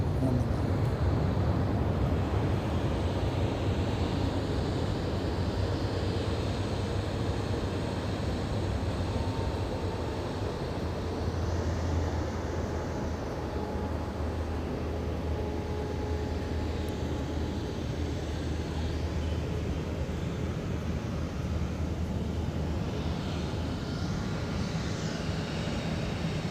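A Singapore Airlines airliner with Rolls-Royce Trent engines moves at an airport, giving a steady, loud engine roar and rumble that holds for the whole stretch, with talk mixed faintly into the noise.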